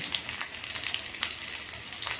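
Steady crackling sizzle of onions frying in hot oil for an eggplant and potato curry, with dense bright spitting pops throughout and no voices.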